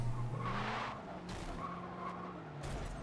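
A Honda Civic race car in Forza Motorsport 7 skids with squealing tires over a humming engine, the screech coming in a few separate bursts that fade and return within a few seconds.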